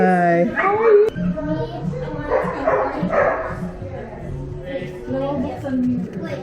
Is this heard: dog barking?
yes